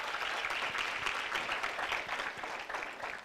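An audience at a ceremony honouring social development matric top achievers claps for the provincial MEC: a continuous wash of applause at moderate loudness, thick and even, with no talking over it.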